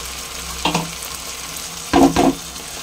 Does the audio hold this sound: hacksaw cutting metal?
no